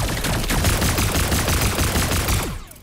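Rapid bursts of gunfire from a PS5 shooter game blaze continuously, dense and loud, with overlapping shots and ricochets before cutting off near the end.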